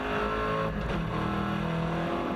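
Onboard a production touring car racing at Sydney Motorsport Park: a loud, steady engine drone with shifting harmonics as the car climbs and drops through revs, no voices.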